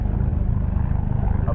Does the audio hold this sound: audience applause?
no